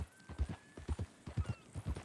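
A mean-tempered horse in the Western video game Red Dead Redemption 2 clip-clops along in a steady, rhythmic trot, its hoofbeats distinct but fairly soft, with a faint tonal whistle above and no speech.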